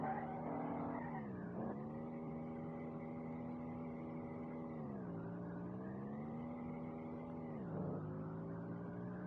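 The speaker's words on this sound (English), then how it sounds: "This is still full throttle drifting." A car in the racing game SLRR drifts at full throttle, its engine whining high and steady with repeated dips and surges in pitch as gears shift and revs rise, fairly quiet and alone.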